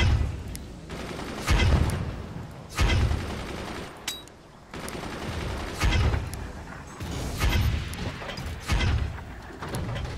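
Repeated bursts of weapon fire and explosive booms from a fort-building battle game, heavy volleys landing every second or so over a dense, noisy backdrop, loud and close with no speech.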